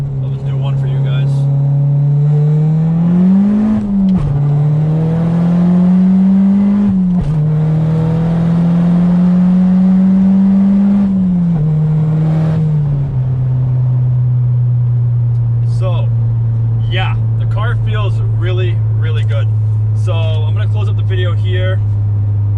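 A MazdaSpeed 3 tuned to around 400 hp and running E25 fuel revs hard through a second gear roll-on on a dyno. Its loud, steady engine drone climbs and dips, then settles into a sustained hum as it winds down.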